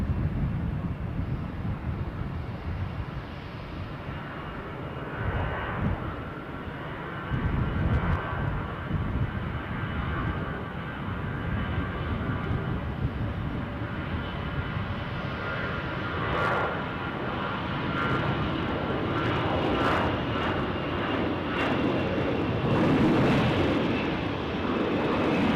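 A Condor airliner rolls for takeoff at Dusseldorf airport, a steady, broad jet engine roar that swells gradually over the whole stretch, heard from a distance and mixed with wind noise.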